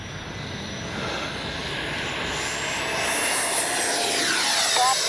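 A Freewing 80mm JL-8 RC jet roars steadily on takeoff, its ducted-fan whine building in loudness and staying close throughout.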